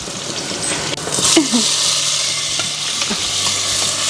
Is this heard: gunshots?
no